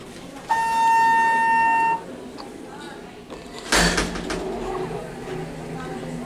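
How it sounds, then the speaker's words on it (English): ThyssenKrupp Endura MRL hydraulic elevator door operator in a high school, installed in 2019, gives a steady tonal whine for about a second and a half, followed by a sharp clunk as the door stops, with quiet room noise after. "That door operator though."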